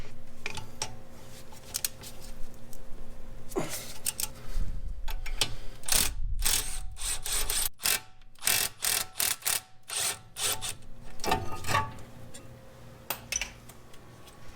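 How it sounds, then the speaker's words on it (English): An 18mm socket on a breaker bar works loose the brake caliper bracket bolts on a Mercedes, giving a run of close ratcheting clicks, creaks and sharp metallic knocks in an irregular rhythm over a low background hum. "Use a 18mm socket along with the breaker bar to break these loose."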